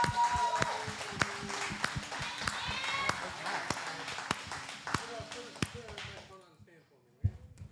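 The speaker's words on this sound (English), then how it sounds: "please give a round of applause to Al." An open mic audience at a coffeehouse applauds and cheers briefly, with sharp rhythmic thumps running through it, then the clapping fades out near the end.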